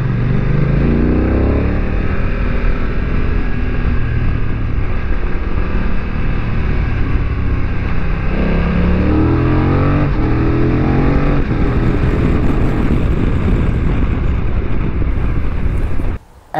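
A BMW motorcycle engine drones steadily while overtaking on a mountain road at about 2,000 meters, with rising and falling gear pitch sweeps under heavy wind buffeting on the microphone; no talking.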